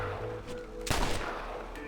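A single gunshot fired at crows in Red Dead Redemption, one sharp moderately loud crack over low ambient game background.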